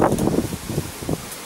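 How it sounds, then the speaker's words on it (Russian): A strong wind rushes through leaves during rain in Kyiv, a brief, fairly loud gust of broad rustling and blowing noise with no voices. "Какой сильный ветер!"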